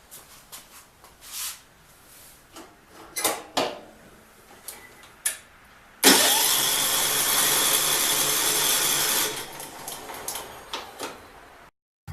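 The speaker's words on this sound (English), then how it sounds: "Well, it's cranking. That means the starter solenoid is working." A Craftsman riding mower engine cranks over on its starter solenoid in one steady, loud burst of about four seconds after a few faint clicks and knocks, then cuts off without firing.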